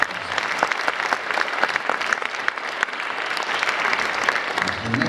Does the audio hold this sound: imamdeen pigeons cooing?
no